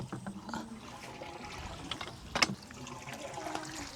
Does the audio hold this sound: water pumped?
yes